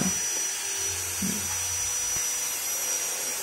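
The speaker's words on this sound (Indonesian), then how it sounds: "Kita potong menggunakan gerinda juga ya, atau kalau nggak punya ya pakai gergaji bisa." An angle grinder cutting PVC pipe gives a steady, close, high-pitched whine that holds evenly throughout with no pauses.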